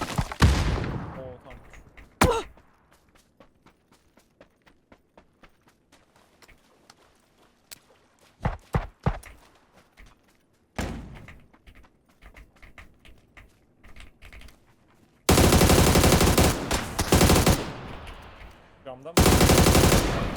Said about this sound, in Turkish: Karşıdan sıkıyor.